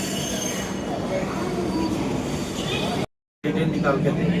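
Express train pulling into a railway station in India, with a steady rumble of wheels on rails and rising squeal of wheels braking, continuous and close, then a brief cut before the rolling noise resumes.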